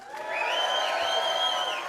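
Crowd at a political rally in Sanford, Florida cheering and whooping for a governor candidate, a steady sustained roar of voices with rising shouts throughout, fairly loud and with no talk over it.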